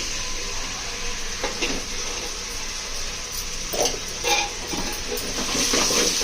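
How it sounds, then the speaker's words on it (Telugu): Yogurt and spice powders are stirred into chicken biryani in a hot pan, giving a constant sizzling hiss with intermittent scraping strokes from the spoon, close by, and no voices. "అన్నిటిని కలుపుతున్నాను. అన్నిటిని బాగా కలిపెడుతున్నాను."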